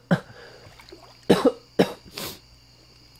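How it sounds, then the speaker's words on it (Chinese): Close, sharp coughing comes in about four separate bursts, with brief pauses between them and a short throat-rasping tail on the last. "一直咳嗽"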